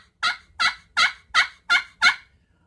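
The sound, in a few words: turkey call played, friction call imitating turkey gobble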